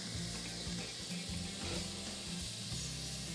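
Onion, garlic and chili pepper frying in olive oil in a pan, a steady, even sizzle held at low level throughout, close by and without any talk.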